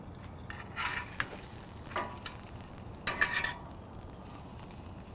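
Dry-aged ribeye fat renders over charcoal and almond wood, a soft continuous sizzle broken by several brief brighter crackles and pops, close and moderately quiet.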